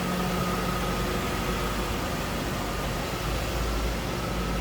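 A 2002 Ford Thunderbird convertible's engine idles in a low, steady, even hum, faint and smooth with no talk over it.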